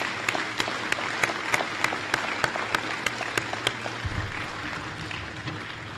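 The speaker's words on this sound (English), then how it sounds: "give me a round of applause for all of our veterans" Audience at a Veterans Day program applauding veterans, a dense, steady roar of clapping from a large room, sustained throughout with no speech.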